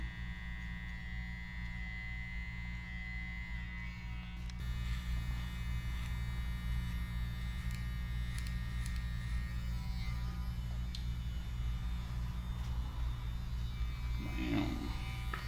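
Electric hair clippers buzz steadily while cutting a mullet and fading the hair, a close, continuous hum that thickens after a few seconds and runs without a break.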